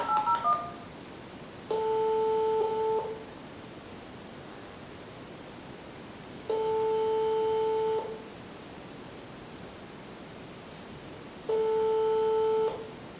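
A telephone is dialed to call back a library, with a quick burst of keypad dialing tones followed by three long, evenly spaced ringing tones over a steady line hiss.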